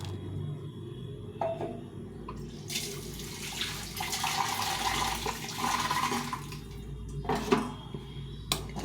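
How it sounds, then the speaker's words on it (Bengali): Rinse water from a mixing jar poured into a pot of mango kasundi: a steady splashing pour of about four seconds, close by, with a few clinks of the jar before and after and no speech. "মিক্সিং জার ধুয়ে জলটা দিয়ে দিলাম"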